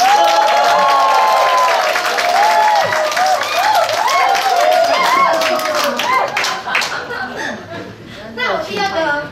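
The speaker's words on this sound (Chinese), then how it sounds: "来个掌声跟尖叫声，" An audience at a Kaohsiung association members' meeting and handover ceremony bursts into loud applause and whoops, dense clapping with shrill cheering that gradually thins out, with voices speaking over it.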